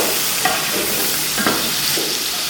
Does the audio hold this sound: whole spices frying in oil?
yes